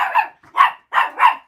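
A pup barks indoors, four short sharp yips in quick succession, close and loud.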